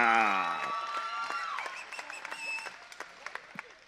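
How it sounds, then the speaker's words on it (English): Audience applause follows a knockout result at a combat fight event: a loud burst of clapping and cheering that starts under a voice, then thins into scattered claps as it fades. "Let's give both these guys another big round of applause"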